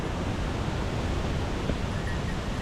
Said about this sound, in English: the waterfall plunges 65 foot down into this ravine